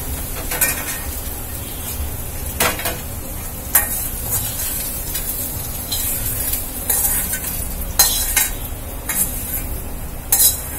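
Ridge gourd peel sautéing in a pan, with a close, continuous sizzle broken by repeated sharp scrapes and clanks of a spatula against the metal, with no one talking.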